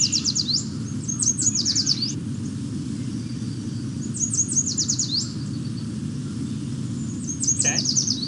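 Repeated high, trilling bird song phrases in short bursts, separated by pauses, over a steady low background hum.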